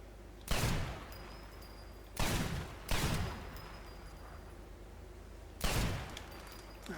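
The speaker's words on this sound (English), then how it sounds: "Absolutely love this gun." Gunshots from a rifle in the video game Sniper Elite 4 on the Monastery map: four sharp, loud reports spaced irregularly across several seconds, each with a short echoing tail over quiet background ambience.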